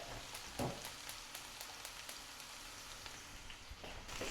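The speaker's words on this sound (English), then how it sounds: "So our beans are cooking fairly quickly and sizzling" Green beans frying in a pan give off a faint, steady crackling sizzle throughout, with a few slightly louder pops and no voices.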